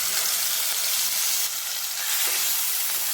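Shrimp frying in a small amount of hot mustard oil, a steady, close broadband sizzle and hiss with no voices.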